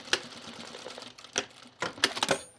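Sewing machine stitching a seam on a pajama top, heard as short rattling bursts of needle action separated by pauses, close and fairly clear with no talk.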